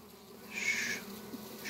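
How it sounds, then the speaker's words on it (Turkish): Honey bees buzz over a crowded beehive during hive inspection, a faint steady hum swelling briefly louder and closer as insects fly past, then settling back. "Üzüm gibi arı dolu üstü."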